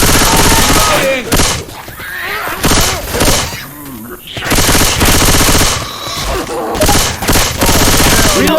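Rapid automatic gunfire in the zombie shooter Left 4 Dead 2 during a rainy Milltown level, loud bursts of machine-gun fire in clusters broken by short lulls, with players talking over the shooting.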